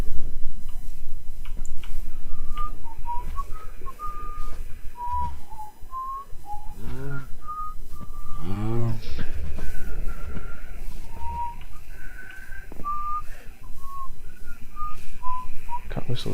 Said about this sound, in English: Can't whistle too loud, it's late.